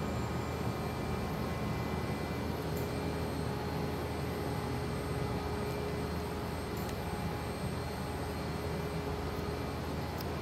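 Mark Andy digital label press printing four-color process with in-line die cutting at 240 fpm: a steady, dense mechanical hum and whir with faint periodic ticks, constant throughout and without speech.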